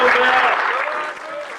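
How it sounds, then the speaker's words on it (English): A round of applause for the president of Carlton Football Club at a memorial gathering, a full crowd clapping loudly at first and then thinning and fading slightly toward the end. "One round of applause again for Bill Stokeld, President of Carlton Football Club."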